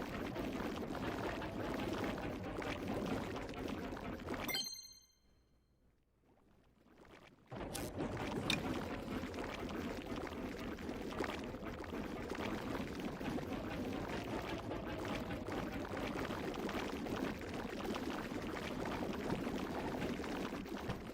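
Water pours steadily in the Nintendo Switch 2 Welcome Tour game, a soft continuous rushing splash that cuts out for a couple of seconds and then resumes.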